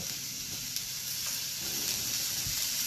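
Stuffed chicken and vegetables sizzle and fry in oil in a pan, with a steady bright crackle and a few louder pops, close and continuous with no talking.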